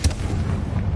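A Confringo spell in Hogwarts Legacy goes off as one sudden, heavy, booming blast, loud and close, with a short rumbling tail and no talk.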